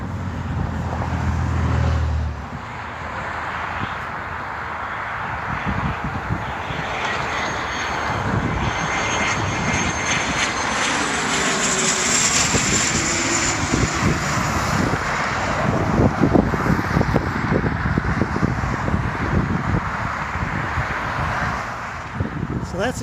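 A propeller airplane flies near Jackson Airport in Michigan while road traffic passes alongside, a rising and falling engine drone with rumbling vehicle noise and wind.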